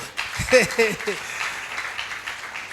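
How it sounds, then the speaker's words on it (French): A church congregation applauds during a worship service, a brief voice at the start giving way to a soft, diffuse spread of clapping that carries on quietly. "Applaudissez pour l'amour"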